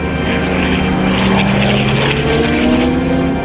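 A twin-turboprop airliner, American Eagle Flight 4184, drones loudly in flight, a close, steady propeller roar with shifting engine tones rising and falling over a few seconds.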